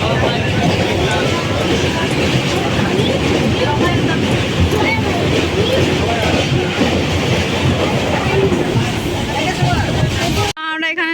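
A local train clatters loudly and steadily at Nandakumar station in West Bengal, with rhythmic rail noise and a babble of crowd voices throughout, then a sudden cut near the end.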